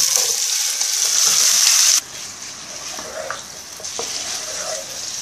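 Chicken pieces fried in hot oil with green cardamom for a butter chicken, a loud steady sizzle that drops suddenly to a quieter, crackling fry with occasional stirring clinks.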